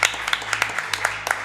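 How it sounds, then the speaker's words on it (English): Short patter of applause from a live speedrun event audience, scattered sharp claps from a few people with a low hum underneath. "Give him a round of applause, everybody."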